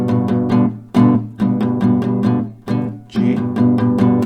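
Acoustic guitar strums a G-based chord progression, steady rhythmic strokes with brief pauses between chord changes, played alone and up close.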